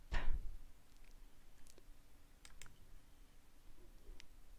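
A single crisp mouse click on a computer rings out at the start, followed by a few faint, scattered ticks against a quiet background.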